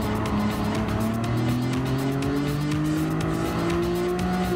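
Ford F-150 Raptor pickup racing in Gran Turismo Sport, its engine droning steadily with rising harmonic tones as it accelerates, tires squealing faintly, loud and continuous with no talk.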